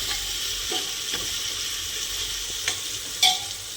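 Chopped capsicum stirred into khichdi frying in a pan: a steady close sizzle and hiss, a few soft scrapes of the spoon, and a sharper clack near the end.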